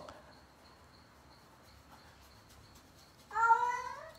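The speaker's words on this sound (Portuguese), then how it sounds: "Meus gatos agora estão falando, gente." Cats meow indoors, heard as a single clear, loud meow near the end after a quiet stretch with faint background hum and a thin steady tone.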